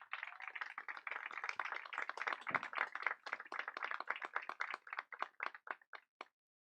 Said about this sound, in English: Can you please give Hannah Leigh Esparza a round of applause?